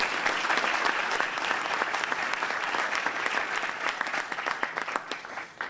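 An audience gives a round of applause, continuous close clapping at a steady level that thins out slightly near the end.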